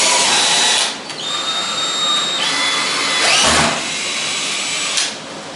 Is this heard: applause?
no